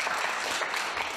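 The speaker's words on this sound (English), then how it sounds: "Please, a warm applause for Elten Kiene, head of our jury contest of" Warm audience applause for the head of a spoken-word contest jury at a human rights lecture, a close, dense patter of many hands clapping throughout.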